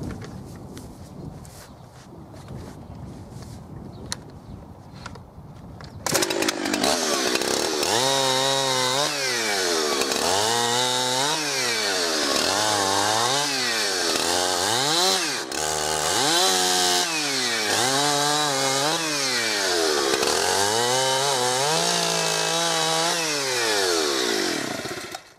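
A chainsaw roars loudly and steadily while cutting through a log clamped in a Wood Dock log holder made by Vincent Products. It rises and falls in repeated pitch sweeps as the chain bites, and a quieter idle comes first.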